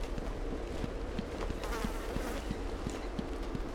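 Bees and wasps in an Arkham Asylum video game make a steady insect buzz, moderately loud and continuous, with faint rhythmic ticking clicks underneath and no talk.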